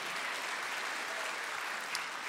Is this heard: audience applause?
yes